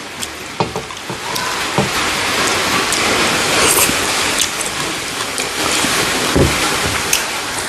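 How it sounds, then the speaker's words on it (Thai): Steady, dense rain hiss fills the scene with scattered louder drops and taps, continuous and fairly loud with no voices. "ฝนตก"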